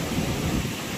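Steady roar of a thunderstorm in a village, with heavy rain and low rumbling filling the whole second, loud and close, no voices.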